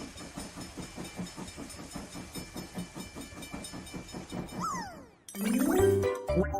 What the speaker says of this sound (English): There is a little train.